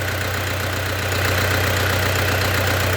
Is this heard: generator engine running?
yes